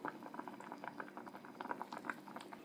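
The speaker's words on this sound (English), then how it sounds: "Let it simmer for 15 minutes." Stock with ginger and tangerine peel simmering in a pot, a quiet steady bubbling with soft irregular pops, near and faint, no voices.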